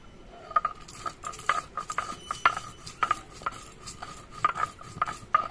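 Dry-roasted spices being pounded or ground, a series of sharp rhythmic knocks and clinks repeating at an uneven pace, close and fairly clear with no talk.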